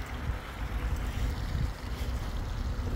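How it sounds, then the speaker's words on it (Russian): A small waterfall in a university library park in Warsaw gives off a steady, full rushing roar of falling water, close and continuous with no pauses. "Такая вот водопадик."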